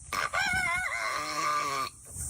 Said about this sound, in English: It sounds like this chicken needs to stop smoking.